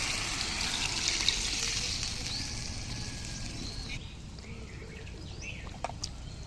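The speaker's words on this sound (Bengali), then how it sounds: "তরকারি খুব সুন্দর ফুটতে শুরু করেছে" Curry of puti fish and thankuni greens bubbles on a clay stove in a soft, continuous simmer, with faint birdsong outside and a light clink near the end.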